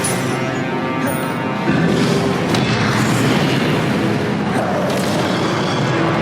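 Confringo blasting spell explosions from Hogwarts Legacy on PS4: a loud, dense, continuous roar of booming blasts with fiery crackle, growing heavier about a third of the way in and holding steady to the end.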